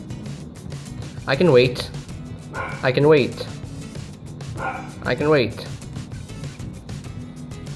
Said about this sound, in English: I'm not sure if you can hear the dog barking in the background